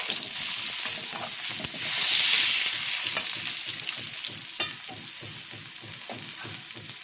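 Spinach tossed into a pan of red-fried bori lentil dumplings and brinjal seasoned with salt and turmeric, for a spinach and prawn dish, hisses in a steady loud sizzle, with regular scraping stirs marking a quick rhythm throughout.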